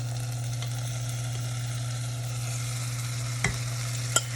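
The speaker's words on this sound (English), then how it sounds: "just let this simmer for another minute or two to just really soften up those beans" Black beans for enchiladas simmer in a pan on low heat with some of their liquid, giving a steady soft bubbling hiss with a couple of brief utensil knocks near the end.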